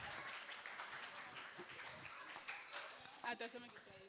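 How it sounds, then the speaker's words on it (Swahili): Audience applause at a multicultural community gathering welcoming a Burundian woman, a dense crowd clapping throughout with voices mixed in and a few sharper claps near the end. "Tupige makofi."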